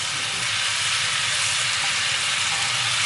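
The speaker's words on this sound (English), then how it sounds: "keep letting this cook on a high heat just to get all those little vegetables soft and almost melting into that butter" Small vegetables cook in butter over high heat for a pepper prawn rice bowl, giving a loud, dense, unbroken sizzle that holds steady and close the whole time.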